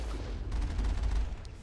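Rapid automatic gunfire from a weapon shooting at a dropship in Mass Effect, a steady burst of dense, booming shots lasting under two seconds with no talking.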